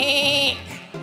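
A man imitates a goat with his voice during a boyband talent-show audition, giving one short, wavering, nasal bleat that is close and clear, with no talk over it.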